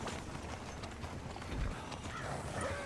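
Horse hooves clip-clop steadily in Red Dead Redemption 2 as a rider approaches a sheriff's office in town. The hooves sound under a dense, noisy game soundscape.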